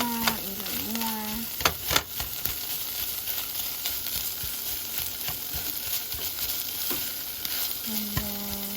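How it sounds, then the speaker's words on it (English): A spatula breaks up vegan, gluten-free taco filling frying in a pan, giving a constant sizzle with irregular scraping and tapping strokes and a few faint squeaks. "we're gonna get our little spatula and break it down even more"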